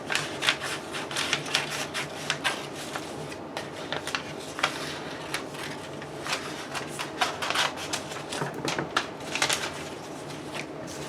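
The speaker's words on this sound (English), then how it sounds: "and then cut that out." Scissors cutting out a taped paper pattern piece, a steady run of crisp snips and paper rustles close by, with no talking.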